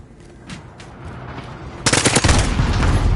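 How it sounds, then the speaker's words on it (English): Automatic gunfire in the video game Modern Warfare, a few faint pops leading into a loud, rapid sustained burst of shots close up. "That is insane hipfire."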